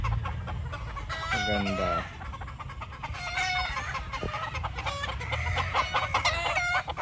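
Gamecocks at a game farm cluck and crow repeatedly, with one clear crow rising and falling near the start and more calls following, over a steady farmyard background with a brief spoken word.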